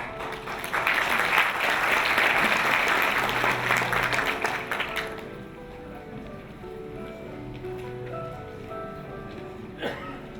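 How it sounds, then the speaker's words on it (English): Audience applause at a peace ceremony in Myanmar, a dense crowd clapping loudly for about five seconds before fading into quieter room noise with faint murmurs and a brief tap near the end. "A big round of applause."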